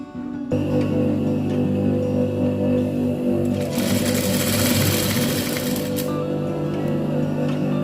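A sewing machine stitches a blouse, a loud, steady mechanical whirr with a fast regular stitching rhythm that runs almost without a break after a brief start.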